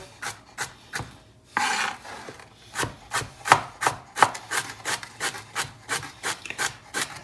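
Partly defrosted ingredients for homemade wedding soup are chopped with a knife on a board: a steady run of crisp, evenly spaced chops, close and fairly loud, with no talking.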